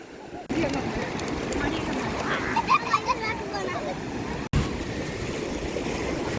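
Sea waves wash steadily onto Red Moon beach, a broad continuous roar of surf filling the scene while people talk over it, with a brief break partway through.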